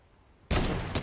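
Gunfire in the video game Fortnite: a sudden loud burst of shots that cuts in after near silence and rattles on briefly, close and harsh.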